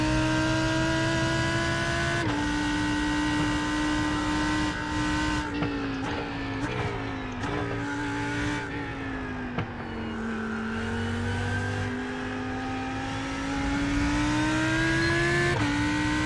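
Lamborghini Huracan EVO GTE race car racing at night at Daytona in iRacing, its engine droning steadily and loud with shifting pitch, gear changes and brief lifts, and faint tire squeal, with no voices.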